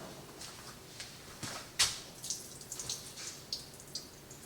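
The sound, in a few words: pouring excess water out of a fermenting jar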